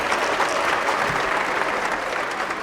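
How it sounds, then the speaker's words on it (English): A crowd at an awards celebration applauds in a steady, even wash of clapping that holds at a constant level throughout. "A round of applause."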